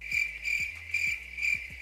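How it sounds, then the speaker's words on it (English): A crickets chirping sound effect: about five short, evenly pulsed bright chirps, faint and alone with no talk. "They got crickets on me."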